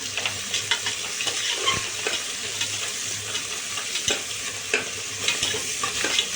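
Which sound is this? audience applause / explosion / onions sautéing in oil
onions sautéing in oil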